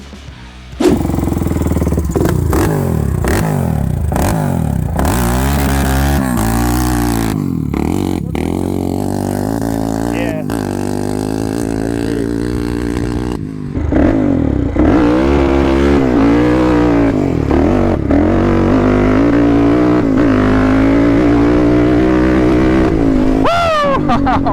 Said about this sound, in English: Now that Mike's had a formal chance of getting acquainted with the Raptor 686, it's time to try out the Predator 560